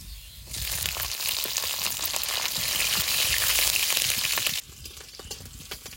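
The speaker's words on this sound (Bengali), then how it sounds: "রসুনগুলো একটু ভেজে নিয়েছি" Crushed garlic frying in hot oil with black cumin and dried chillies, a loud, dense sizzle that surges in, holds steady for about four seconds, then cuts down sharply to a quieter crackle.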